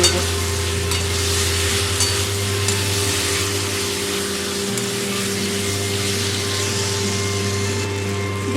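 A spatula stirs pre-fried egg into a cooked masala in a hot pan, making a continuous loud frying hiss with scraping and stirring movement running steadily throughout, with no voices.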